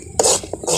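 A spoon scrapes through a masala mixture in a pan while making traditional Maharashtrian umbar vadi. There are a few quick, close scraping strokes in under a second.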